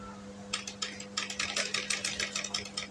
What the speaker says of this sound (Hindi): मैं यहाँ पर अब इस तरह से सिलाई लगाऊंगी